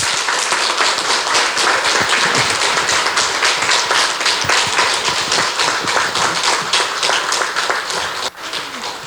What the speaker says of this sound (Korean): 저 큰 박수 부탁드립니다.